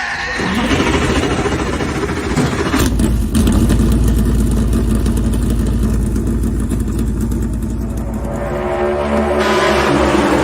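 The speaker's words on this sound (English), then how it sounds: "gentlemen, start your engine!" Race car engines roar to life and rev hard at the start of a race, a loud, dense, sustained engine drone that swells and holds steady throughout.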